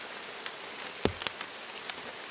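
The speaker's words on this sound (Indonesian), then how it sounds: "masih belum reda juga hujannya" Steady afternoon drizzle falling in a forest makes a soft, even hiss, with a few louder nearby drips and splashes standing out, one sharper than the rest about halfway through. No one speaks.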